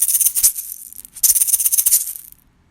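An egg shaker is shaken up and down during a primary-school music lesson on rhythm notation, giving two bright rattling bursts with a short gap between them, close and clear, with no talk.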